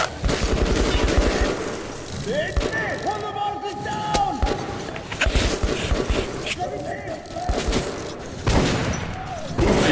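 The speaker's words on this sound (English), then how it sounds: "that was some heavy shots" Heavy gunfire in the shooter Metro 2033 Redux cracks out in dense, overlapping bursts with booming impacts, loud and continuous, mixed with shouting and game sounds.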